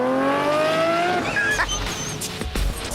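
A Lamborghini Murcielago LP670-4 SV engine revs hard under acceleration, its rising tone climbing steeply through the gears with a sharp upshift, loud and close, followed by rougher road and tyre noise.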